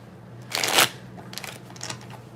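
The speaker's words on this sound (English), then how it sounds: "One more shuffle here." A deck of tarot cards riffled once in a quick close burst, followed by a few fainter shuffling flicks, all quiet and nearby with no talking.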